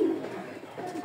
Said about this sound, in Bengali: সকালবেলা যখন আসি তখন এই কবুতরগুলো খুব সুন্দর করে ডাকে